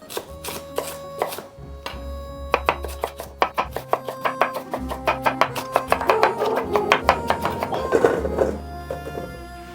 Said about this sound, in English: Trim the tips off, and then we're gonna cut them into wedges.